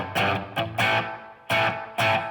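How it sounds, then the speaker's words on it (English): Electric guitar run through an Echo Fish delay pedal, several sharp strummed chords in uneven rhythm, each decaying with a short trailing echo, close and clear with no talking. "and we have our Echo Fish delay"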